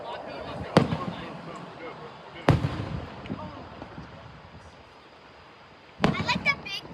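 Fireworks burst at an Ocean Isle Beach show, three sharp booms spaced a few seconds apart, the last followed by crackling, while people talk and murmur in the background.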